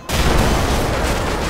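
A single heavy tank cannon blast in the video game Call of Duty 4: Modern Warfare booms loudly and close, followed by a rolling, rumbling echo that lingers.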